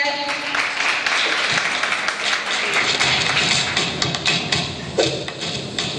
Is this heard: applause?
yes